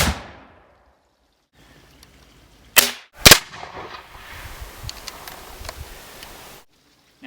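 A Civil War musket fires in a close, sharp blast with a brief follow-up crack, then a fading rumble and some background movement after a quiet lead-in.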